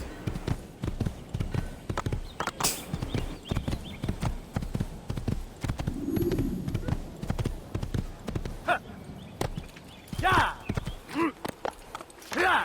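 Horse hooves clip-clop steadily in Assassin's Creed 2, a rapid rhythmic patter running throughout, mixed with speech and an occasional whinny near the end.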